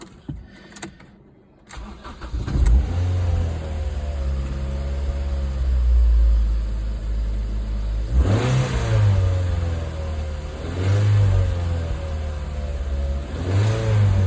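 A Ford Fiesta ST150 engine cranks and starts, then idles roughly and revs up three times, with a knocking undertone from a worn connecting rod bearing.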